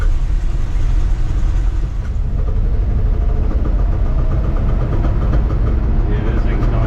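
An engine with a worn-out camshaft idles loud and rough in a shop, a steady low rumble with an uneven mechanical chatter running through it, no talk over it.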